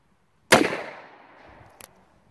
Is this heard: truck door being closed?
no